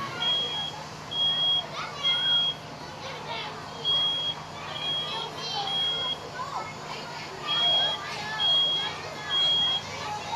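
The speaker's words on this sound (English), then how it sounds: "Now you hear the smoke detector sound at 1 minute and 15 seconds." A smoke alarm beeps repeatedly in short high-pitched bursts during a fire department sprinkler demonstration, with flames building up a wall, while voices talk over it and other background noise.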